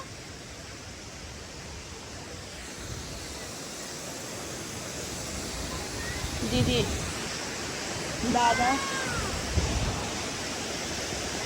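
A waterfall roars in a steady, broad wash of rushing water close by, with brief voices of people calling out to each other over it.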